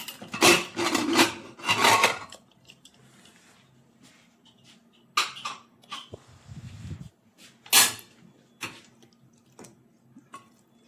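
Metal clanks and knocks as the lid is worked open on a pressure cooker that has released its pressure after cooking potato stew, heard in a few separate close bursts with quiet gaps between them.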